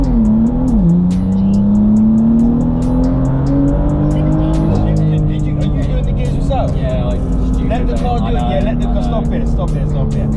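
A 550 bhp BMW M2 track car engine roars as it accelerates hard from a standstill, pitch climbing steadily through the gears, loud and close, with faint ticking and clicks over the top.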